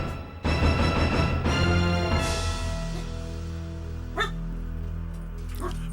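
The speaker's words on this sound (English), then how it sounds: "you will be hearing some barking as the trick-or-treating is happening" A dog barks at trick-or-treaters near an office door, a few close yips and bow-wows at the start over a steady music bed, with more scattered barks later.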